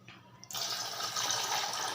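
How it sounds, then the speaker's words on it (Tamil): Water pours steadily into a tumbler for plain lemon juice, a bright rushing splash that starts abruptly after a brief quiet moment and continues close and loud to the end. "இன்னும் ஒரு டம்ளர் தண்ணி ஊற்றிக்கலாம்"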